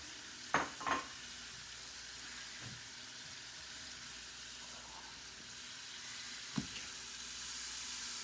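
Pork sears in a hot pan for pulled pork, with onions laid in the pan; a faint, steady sizzling hiss runs throughout, broken by a few sharp pops and clatters near the start and again later.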